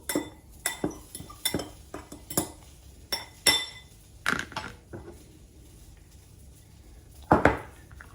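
A fork scrapes and clinks against a pan while stirring couscous, irregular metallic taps and scrapes close up, then a pause before one last clatter.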